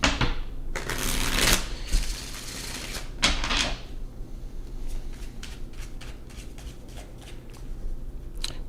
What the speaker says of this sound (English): All right, last shuffle, Leo.